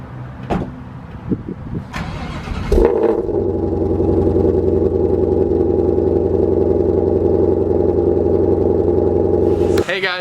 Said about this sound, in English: I'm gonna start up this 1000 horsepower GT500